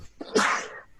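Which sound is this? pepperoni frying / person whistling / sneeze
sneeze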